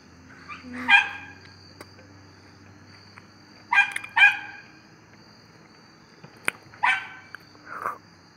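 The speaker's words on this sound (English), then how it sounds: "We left him outside and he's barking." A dog barks outside in short bursts from some distance in a video game, a few separate volleys with quiet gaps between them.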